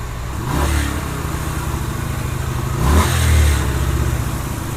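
A 2007 Yamaha Virago 250 motorcycle with an electrical issue idles loudly up close, then revs twice in short blips and settles back slowly toward idle each time, with no talking.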